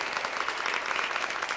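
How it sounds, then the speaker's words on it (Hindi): Audience applause at a spoken talk in a hall, a steady dense wash of many hands clapping at moderate volume throughout, with no voices on top. "एक बार ताली बजा करके बस शांति बनाइए।"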